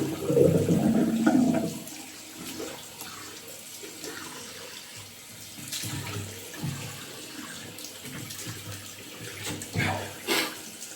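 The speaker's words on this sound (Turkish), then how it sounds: "fırçamızı temizliyoruz, biraz sudan geçiriyoruz" A shaving brush is rinsed under a running bathroom tap, the water gushing loudly at first and then splashing and trickling steadily as the brush is worked under the stream.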